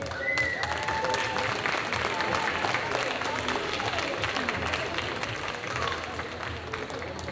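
Crowd applause and cheering at a cosplay contest on a game show stage, a loud, sustained roar of clapping with shouts and whistles that holds steady throughout.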